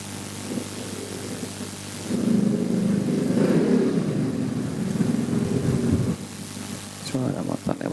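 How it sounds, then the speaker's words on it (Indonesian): A motorbike passes by outside during a recitation, its engine rising as a broad rumble for about four seconds and then fading, while a voice is heard before and after. "Suara motor lewat masuk."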